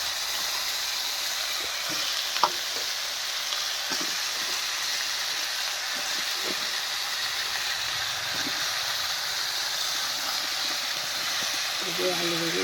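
Potatoes and eggplant dropped into a pan of fried spices give off a steady broad hiss of frying and sizzling, with faint clinks of stirring now and then and a voice talking quietly underneath.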